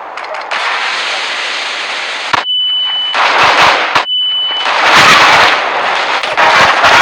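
Gunfire and a grenade blast in a shooting video game, loud bursts of shots and explosions with short beeps between them, close and dense.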